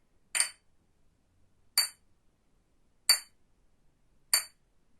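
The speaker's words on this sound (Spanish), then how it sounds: "Ahora vamos a ver cómo suena el cristal." A piece of glass is tapped gently four times at even, spaced intervals, each strike a short bright clink ringing briefly in an otherwise quiet room.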